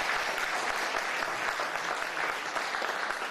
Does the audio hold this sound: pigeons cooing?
no